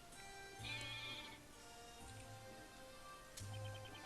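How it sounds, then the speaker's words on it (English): Goat bleating in the video game Professor Layton vs Phoenix Wright, several short nasal bleats spread across a few seconds, faint and alone over a soft steady game background with no talk. "Let the lady and her goat see!"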